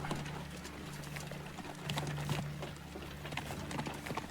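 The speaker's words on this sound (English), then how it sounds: "Never tried to back up a horse and buggy before." Steady clip-clop of a horse and buggy's hooves at a moderate pace in the video game Teardown, with a low mechanical hum underneath, fairly quiet throughout.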